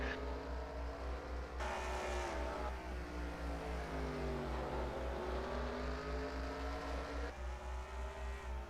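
Race cars circling Wall Stadium in the NR2003 racing video game, a dense, steady engine drone with shifting pitch as cars accelerate and slide, continuous and moderately loud with no talk.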